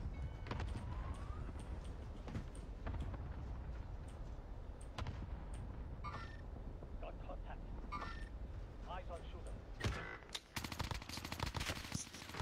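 Video game gunfire in Warzone crackles in rapid bursts and single shots throughout, with a siren-like tone partway through, under players' voice chat.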